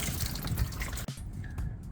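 Liquid pouring and splashing as water drains out with the oil from a 2008 Jeep Wrangler JK engine, a steady close gush that briefly breaks and resumes as a thinner trickle.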